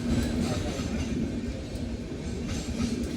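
A train passes a railway level crossing, a steady close rumble of wagons rolling by with faint clatter throughout, no speech.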